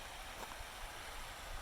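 Gray Creek flows through a forest beside a logging road, giving a steady broadband rush of moving water that stays constant and fills the scene with no talk.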